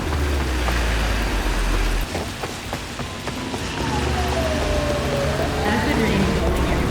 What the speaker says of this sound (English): Acid rain falling here again.